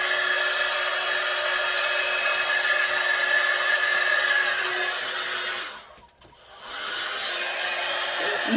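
A handheld hair dryer blows warm air across a rooted pearl blonde synthetic wig, a loud steady whir that dips sharply for about a second as it is switched, then resumes at full strength.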